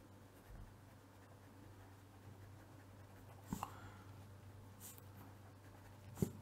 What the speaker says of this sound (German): Also jetzt schreibe ich da auf